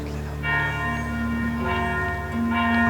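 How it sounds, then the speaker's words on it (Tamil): A Pillaiyar temple bell in a Jaffna village rings in three sustained, resonant strikes with long humming overtones, loud and close, over a low background hum. "பிள்ளையார் கோயில் மணியோசை ஊரவர் உள்ளம் சிலிர்க்கு உயர எழுகிறது"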